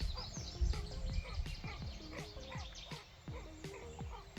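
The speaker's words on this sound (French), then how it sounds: "Un petit canard." A small duck calls outdoors beside water during fly fishing, with a series of short, repeated quacking notes at moderate distance over a steady outdoor background.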